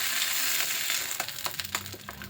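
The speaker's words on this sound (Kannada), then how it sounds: "ಒಗ್ಗರಣೆ ಹಾಕ್ತೀನಿ ಸಾಸಿವೆ ಕರಿಬೇವು" Hot ghee hisses loudly as mustard seeds, curry leaves and dried red chillies hit the pan, then the sizzle settles into scattered pops and crackles.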